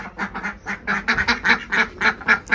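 A broody hen sitting on her own gives a rapid, rhythmic run of about a dozen throaty clucks, close and fairly loud, with no talk over them.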